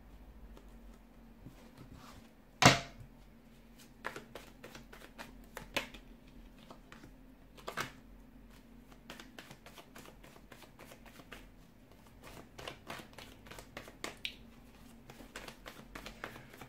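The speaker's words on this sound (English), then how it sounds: "it just feels like the cards are flying out." Tarot cards shuffled by hand in a steady run of quick riffling taps and flutters, with one sharp loud snap early on, close and otherwise quiet with no talking.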